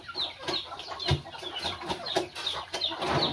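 Several chickens cluck close by in a busy, overlapping chatter, with short rhythmic clucks repeating throughout and no talking.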